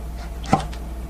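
A knife julienning vegetables such as cucumber or carrot into thin 0.2 cm strips for chiljeolpan, a single close chop against the board amid quiet background.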